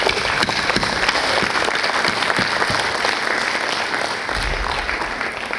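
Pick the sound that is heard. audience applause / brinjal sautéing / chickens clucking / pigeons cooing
audience applause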